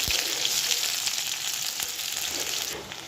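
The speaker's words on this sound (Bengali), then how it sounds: "পেঁয়াজটা একটু ভাজা ভাজা হয়ে এসছে" Continuous crackling sizzle of onions frying in hot oil tempered with nigella seeds, fairly close and steady, easing slightly toward the end.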